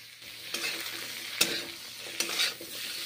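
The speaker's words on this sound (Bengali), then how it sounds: "চিকেনগুলো ভেজে নিচ্ছি।" Chicken pieces fry in butter in a pan, sizzling steadily while a utensil scrapes and turns them in a few sharp strokes, close and fairly loud, with no voices.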